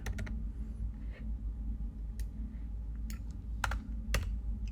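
Soft clicking keystrokes on a computer keyboard, scattered light taps over a low steady hum, close and quiet, with no talk.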